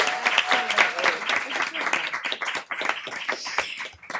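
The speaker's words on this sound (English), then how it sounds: "Applause." Applause at a Hennepin County committee meeting honoring a county service member, uneven clapping from a modest group with a voice talking over it.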